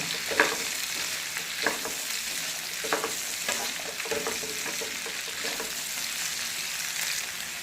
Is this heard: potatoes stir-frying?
yes